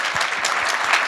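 An audience at a national bike summit's opening plenary applauds a city transportation department's active transportation team. Steady, moderately loud clapping fills the whole brief moment.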